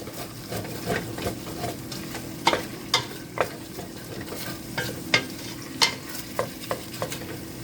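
Chicken frying in a pan, a soft steady sizzle broken by repeated scraping clicks of a spoon stirring, close and fairly quiet, no voices.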